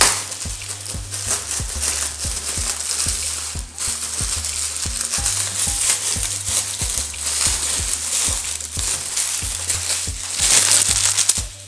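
Plastic packaging from iPhone 15 Pro Max cases and accessories crinkling and rustling close up, continuous crackle for several seconds with regular soft thumps underneath, no talking.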